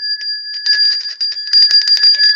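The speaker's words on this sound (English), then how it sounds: "I'm going to have to adjust this bell." A desk bell rung over and over in a rapid series of bright metallic dings, loud and close, with a sustained ringing tone beneath the strikes.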